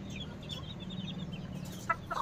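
Native breed chickens cluck softly at close range over a steady low hum, with a couple of brief louder calls near the end.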